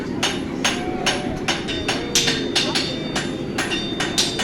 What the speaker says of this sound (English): a piece of metal that's smacked on a hammer, with a hammer on an anvil and nailed onto a foot